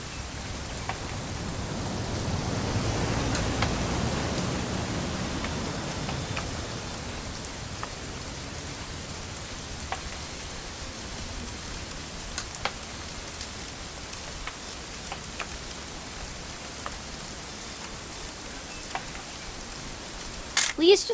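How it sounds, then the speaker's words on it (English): Rain falls steadily in the game What Remains of Edith Finch, louder at first and then easing into a softer patter, with occasional sharp drips and a few clicks near the end. "It's gonna rain the whole weekend,"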